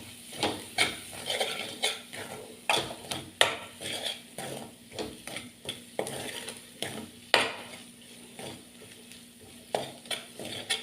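Spices, garam masala and coriander, sautéed in a pan for a sandwich filling: a soft sizzle under repeated sharp scrapes and taps of a spoon against the pan, irregular and close.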